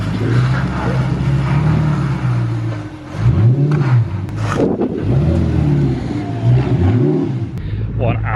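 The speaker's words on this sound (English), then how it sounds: "Gated manual, R8, V8, naturally aspirated." Naturally aspirated V8 of an Audi R8 with a gated manual, revved repeatedly in rising and falling swells over a steady idle, loud and close, with people talking over it.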